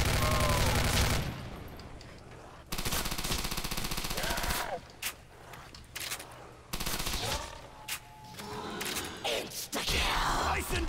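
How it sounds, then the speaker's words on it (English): Tommy gun firing in Call of Duty: World at War, loud automatic bursts broken by short pauses, with mechanical clicks and other game sounds between volleys. "Use your Tommy gun and just hurry up and finish the round."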